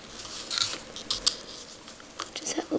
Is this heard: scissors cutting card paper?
yes